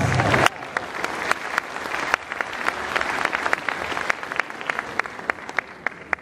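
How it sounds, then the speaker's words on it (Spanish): Renewed applause from a seminar audience encouraged to clap louder for a panelist: brisk, continuous clapping from a modest crowd that thins into scattered, sharper individual claps toward the end, close and clear with no talk. "Faltó palmas, por favor, fuerte las palmas."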